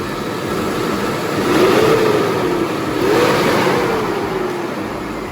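A 2003 Lincoln Aviator engine, just fitted with new coil packs, runs steadily nearby, its pitch rising and falling twice as the engine revs up and settles back.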